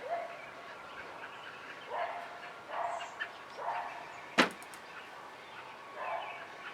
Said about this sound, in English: Boy, the dogs are riled right up today,